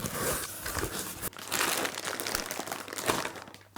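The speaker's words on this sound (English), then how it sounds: "I should be really cutting away from me, shouldn't I?" Close, loud crinkling and tearing of plastic packaging around a 3FUL Tianshan 45L backpack as it is cut open with a knife, continuous rustling with sharper crackles, no voices.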